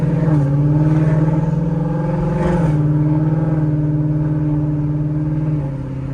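2018 Ford Mustang GT Premium coupe V8 engine droning steadily while cruising, heard from inside the cabin with windows closed; a brief shift in pitch early on, then an even hum fading slightly at the end.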